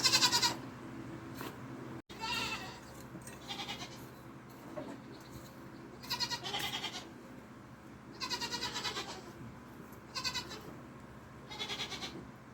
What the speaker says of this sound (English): I have a goat that is in full-blown heat